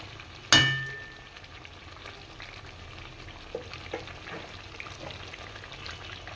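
Lemon chicken cooks in a pan, opening with a sharp metallic clang and burst of sizzle, then settling into a quiet, steady frying bubble with a few faint clinks from stirring.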